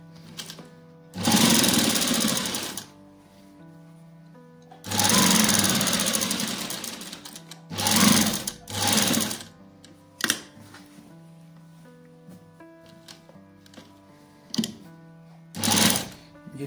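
A sewing machine stitches a langot in two long runs, then several shorter bursts and brief taps, loud and close, with quiet gaps between them.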